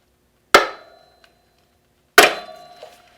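Two sharp metallic strikes, about a second and a half apart, ring out with short decaying tails as the brake pad pin is pressed out of a BMW F800GS rear brake.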